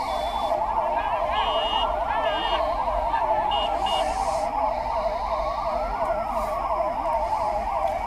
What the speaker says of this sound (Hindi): और ये देखिए एम्बुलेंस अब रवाना हो रही है